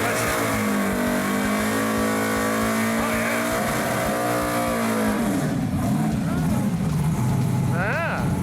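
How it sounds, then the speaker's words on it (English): A 1980 Chevy El Camino does a burnout, the engine revving hard in rising and falling sweeps with harmonic howl, tire noise building, and voices calling out over it near the end. "the burnouts never lie, so let's give a little watch and listen"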